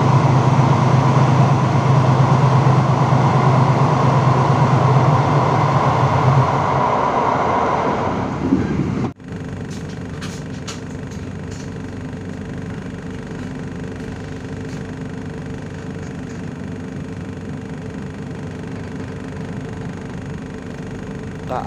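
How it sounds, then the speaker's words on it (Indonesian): The KA Singasari passenger train heads out from Gombong station in Kebumen late at night, its loud interior rumble and rattle fading to a softer steady rolling hum with light clanking after a sharp jolt. "KA Singasari kembali diberangkatkan dari Stasiun Gombong Kabupaten Kebumen jam 23:35 menit"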